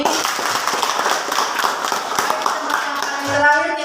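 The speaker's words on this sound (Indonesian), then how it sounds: "Sekali lagi kita tepuk tangan untuk ini." Classroom group clapping during a project-based learning session, a brisk, continuous patter of hand claps with voices mixed in and a brief voice near the end.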